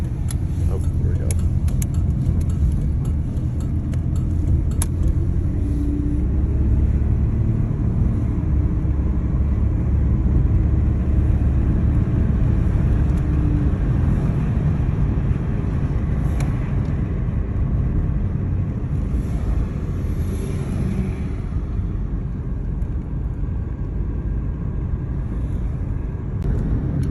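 A 1991 Buick Skylark Luxury edition driving and braking, a steady loud road and engine rumble from inside the cabin with someone talking over it.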